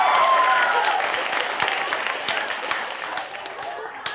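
Studio audience applause during a live late-night comedy show, a dense wash of clapping that starts strong and gradually thins and fades over a few seconds, with some voices mixed in.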